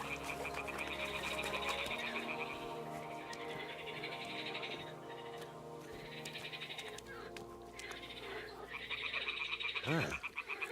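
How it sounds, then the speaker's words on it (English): Toads croak in a game world from Kingdom Come Deliverance 2: a steady chorus of repeated croaks under a bed of background game music, with a few brief sounds rising near the end. "Ah, the toads are croaking here."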